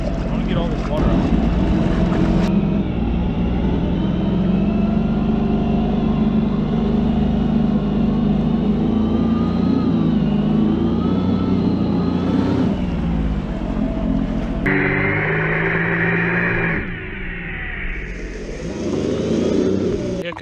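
A Sea-Doo jet ski engine runs steadily and loud up close to clear water from the hull, a continuous droning roar with a shift in pitch and tone near the end.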